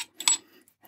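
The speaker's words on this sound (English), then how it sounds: "I will quickly drop an M5 bolt in this hole because I don't have the other clamp" A small M5 metal bolt drops into a hole, giving a single bright metallic clink followed by a faint rattle, short and close with no voices.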